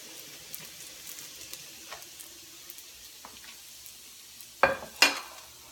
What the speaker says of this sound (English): I'm just going to stir the garlic in with the bacon for about 30 seconds until it's fragrant